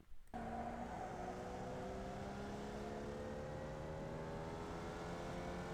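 A Formula Vee race car in iRacing on the Tsukuba Circuit holds full throttle, its engine a steady, rising buzz that climbs in pitch without a break.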